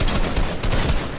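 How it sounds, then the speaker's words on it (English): Pump shotgun fire in Fortnite, dense and loud throughout with overlapping blasts and gunfire crowding the whole clip, no clear single shot standing apart. "He had the pump shotgun."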